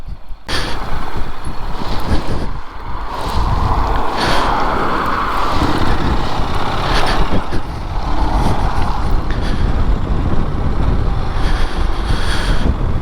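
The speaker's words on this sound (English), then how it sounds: "it's all about brake and throttle control with this bike, rolling on and rolling off the throttle" A Honda NC750X DCT motorcycle on the road, engine note rising and falling as the throttle rolls on and off, heavily buffeted by wind rush throughout.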